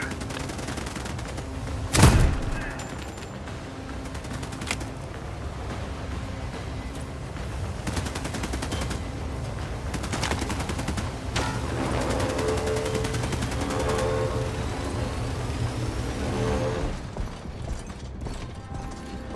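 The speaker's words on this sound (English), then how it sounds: "Even their armor won't stand a chance against PDC fire." Sustained rapid point-defense cannon fire rattles through a battle in the sci-fi shooter The Expanse Osiris Reborn, a loud boom near the start giving way to a dense, continuous mechanical clatter that runs the whole stretch.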